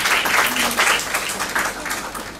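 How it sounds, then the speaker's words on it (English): Students in a college lecture hall at Miranda House, Delhi, clap together for a couple of seconds, a fairly close, lively patter that thins out toward the end. "You know how to clap, right?"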